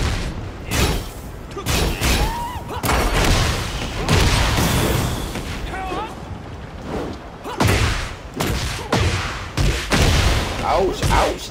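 Gunshots and impacts from the Tekken 8 fighting game arrive as repeated loud bursts and booms amid busy game effects, with a player talking over the action.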